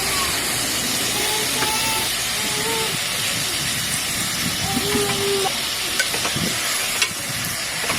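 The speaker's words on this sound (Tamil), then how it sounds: "நல்லா வதக்கி விட்டுக்கலாம்." Goat chest bone meat with its fat sizzles and hisses loudly in a hot pan while being stirred, a steady frying crackle with occasional scraping clinks.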